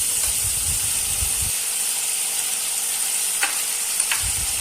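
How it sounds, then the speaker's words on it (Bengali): Spices cooked with tomato paste in a frying pan for a spicy okra dish hiss in a steady sizzle, with low scraping stirs at the start and end and a few faint taps between. "এবার টমেটো বাটা দিয়ে নেড়ে নিলাম। মশলাগুলো ভালো করে নেড়ে যেতে হবে যাতে মশলাটা নিচে লেগে না যায়।"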